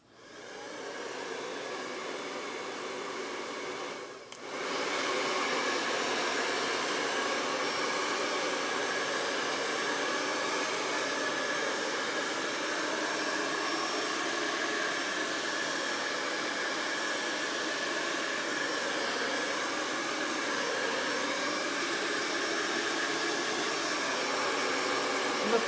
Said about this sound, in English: let's hit it with the dryer